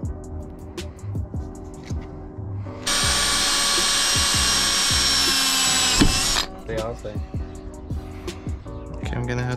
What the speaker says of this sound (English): I'm gonna have to drill a hole on the bracket, make it match with that other hole